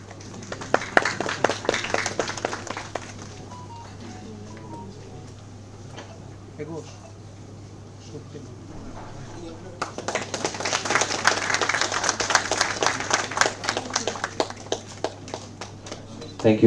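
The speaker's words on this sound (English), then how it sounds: "I will request everyone to have a huge round of applause for the moment" Applause from a seminar audience: a burst of clapping at the start, a lull under speech and a low hum, then a longer, fuller round of clapping near the end.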